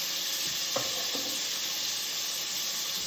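Chicken frying in oil, a dense continuous hiss and crackle of sizzling fat, steady and close throughout with a couple of faint soft knocks and no talk.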